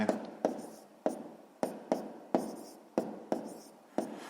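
Pen strokes scratch across paper while numbers are written out by hand for a sixth-grade multiplication exercise, eight short close scrapes falling in a fairly steady rhythm, with no voices.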